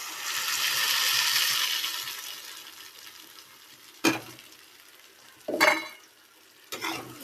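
Tomatoes fry in a pan with onion, garlic and curry leaves for a fish curry: a soft steady sizzle that swells and fades, then three distinct scraping stirs of a spoon against the pan.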